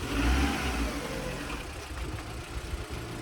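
A Fiat 500 with an Abarth bumper reverses up to a garage, its engine revving loudly at first, then settling to a steady mid-pitched idle with a faint rattling note.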